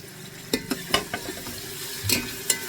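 Tomatoes sautéed in a pan for prawn biryani, a soft sizzle underneath several sharp scraping and tapping strokes of a spatula spaced irregularly, close by, no talking.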